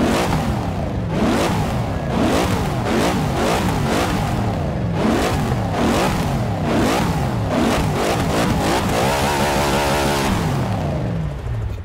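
A Mercury Cougar XR-7 rated at 675 horsepower in Forza Motorsport 6 revs hard again and again in rapid rising bursts, then drops to a rough idle toward the end, loud and close with no talk.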